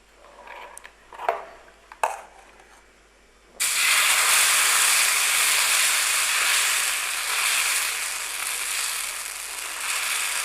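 Moong dal dosa batter poured onto a hot oiled griddle bursts into a loud, steady sizzle, preceded by a few clinks and taps of utensils.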